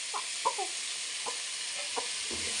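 Tomatoes frying with onion, garlic, ginger, fennel, pepper, cumin and curry leaves for Chettinad country chicken curry. A steady, bright hiss of frying runs throughout, with several close clacks of a spoon stirring the pan.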